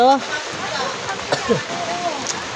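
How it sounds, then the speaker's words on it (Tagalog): Rain starting to fall outdoors in a Philippine barangay, a soft, steady patter under occasional voices with faint brief clatters. "Ayan na guys, umpisa ng ulan guys."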